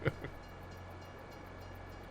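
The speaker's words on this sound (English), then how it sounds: "Gotta wait for the train once in a while." A train passes in the Farming Simulator 22 video game on the Elm Creek map, opening with a short horn-like burst followed by a steady low rumble and hiss, with no talking.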